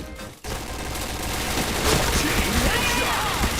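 Rapid gunfire from the PointBlank online shooter game, a dense burst of shots rattling continuously with the speaker's voice talking over it.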